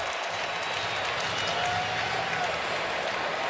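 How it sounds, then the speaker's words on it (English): Fans at a college football championship game between Auburn and Missouri react in the stadium, making a steady, dense crowd roar with scattered cheering throughout. "Now you hear more of the crowd reacting"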